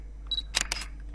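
Camera shutter sound effect for an After Effects animation: a faint whir, then two sharp, bright mechanical clicks in quick succession over a low steady hum.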